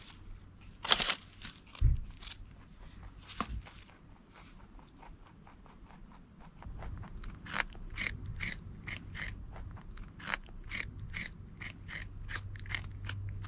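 A pet rabbit crunches dry food, a series of short, crisp bites and chews coming in steady bursts close by, with quieter gaps between, some faint rustling and no talk.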